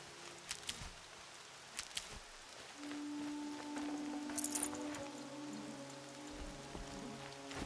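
Rain pattering down in the Horizon game, a continuous soft hiss with scattered clicks and taps, plus a brief low hum in the middle.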